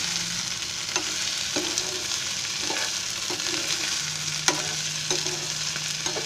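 Potatoes and onions being stirred in a pan as they cook for a capsicum bhaji, with repeated spoon scrapes over a steady sizzle and no talking.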